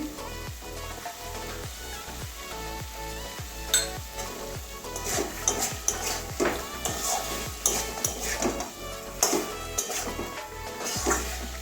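Pointed gourd sautés with salt in a pan, sizzling under frequent scrapes and clinks of a spatula stirring against the metal; the stirring strikes come in a loose, repeated rhythm, close and fairly loud, with no voices.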